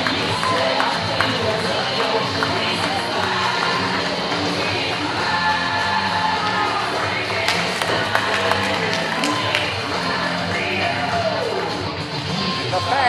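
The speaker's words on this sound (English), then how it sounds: "The fans here applauding the show of sportsmanship by these four men" A wrestling crowd at an independent show's anniversary event applauds steadily after a tag-team match, a dense, sustained wash of clapping and crowd noise that holds at an even level throughout.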